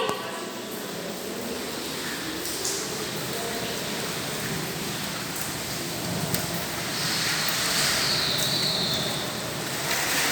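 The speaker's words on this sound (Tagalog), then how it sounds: "Ang lakas na ng ulan eh. Ulan at hangin." Steady, heavy rain hisses alongside a broad rush of wind during Typhoon Egay in 2023 in San Nicolas, Ilocos Norte, Philippines, a dense wash of noise that swells slightly toward the end.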